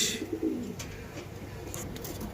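Satinette pigeons at a pigeon market give soft low cooing at close range, a brief rolling call set against a quiet background hum.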